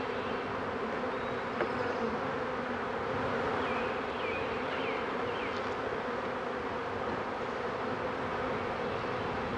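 A honeybee swarm hums and buzzes densely while being installed in a new beehive, a close, continuous drone with no talk over it.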